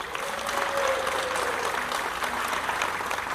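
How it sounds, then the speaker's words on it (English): A steady round of audience applause for local schools, staff and students at a county superintendent's annual report, dense clapping filling the room at a constant level. "Let's give one more round of applause to all of the schools and the staff and students that they represent."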